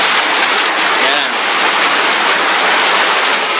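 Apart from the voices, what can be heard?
heavy rain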